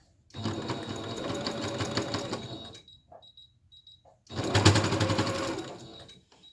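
A sewing machine runs in two fast, rattling bursts of stitching with a short pause between them. It is close by, with faint ticks during the gap.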